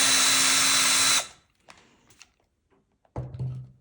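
A power screwdriver runs loud and steady for about a second while backing screws out of the main circuit board inside a Bang & Olufsen Beomaster 7000 receiver, followed by light taps and clicks of handling.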